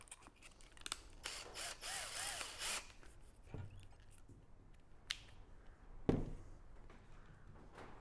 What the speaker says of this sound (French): soit directement avec la visseuse.